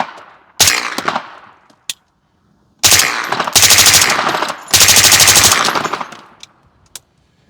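A suppressed Colt SMG 9mm fitted with an AB F4L suppressor fires a single shot, a short burst, then two long rapid bursts, each sharp and loud with dull reports, plus a few isolated shots.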